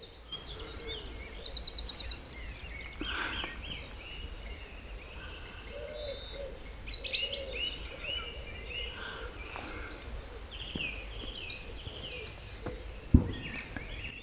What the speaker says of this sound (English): the harsh tick-tick-tick-tick one, and the blackbird alarm calling